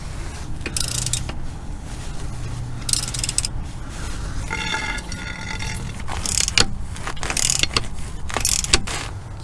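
A breaker bar turns a nut on a Dodge Durango transfer case, producing intermittent ratcheting clicks and metallic clanks in short clusters, close up over a low garage rumble.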